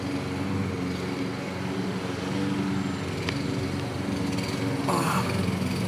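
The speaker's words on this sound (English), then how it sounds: "Fucking lawnmowers, man." A lawn mower engine drones steadily close by in a back garden, a continuous mechanical hum with a brief higher whine near the end, with no talk over it.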